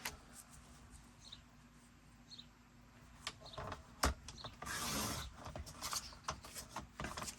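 Paper scrap is cut for a handmade craft folio: faint, close-up rustles and small clicks, then a louder brief swish of the blade passing through the paper, followed by light handling noises.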